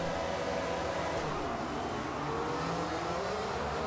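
An F1 car in a racing video game, a Williams, pulls away from the back of the grid at the race start with heavy wheel spin; a rough, continuous engine roar sits inside a thick, steady bed of noise.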